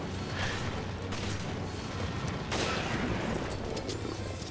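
Rifle fire in the Resident Evil Revelations video game, heard as a couple of dull distant reports under a dense, continuous roar of game ambience and rumble, with no speech.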